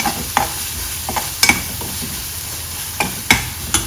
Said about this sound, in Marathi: अर्धा टीस्पून हळद घातली थोडीशी परतून घेऊया